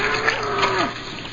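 A bull lowing with a single drawn-out moo that bends downward at the end, heard close over a constant background hum.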